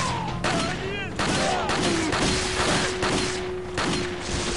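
Rapid pistol shots crack in quick succession during a chaotic video game fight, loud and close, over a steady game hum, with a voice calling out in between.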